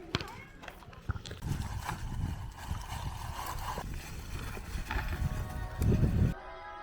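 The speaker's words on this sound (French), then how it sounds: "Un gosse en cheval dans les villes" A horse ridden by a child clip-clops along a town street, its hooves knocking in an uneven rhythm at moderate distance while people talk over it and background noise rises near the end.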